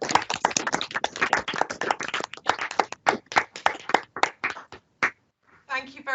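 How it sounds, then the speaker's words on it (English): An online audience, unmuted over a video call, claps for a speaker in a dense patter of hand claps that thins into scattered individual claps before a final short flurry. "can I ask the audience to unmute themselves to give Kim a round of applause"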